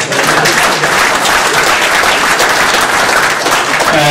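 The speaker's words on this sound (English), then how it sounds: "I think we should just give him a round of applause just because he's Johnny Raptor." Sustained applause from a dinner audience honouring Johnny Raptor, dense steady clapping close and loud throughout with no break.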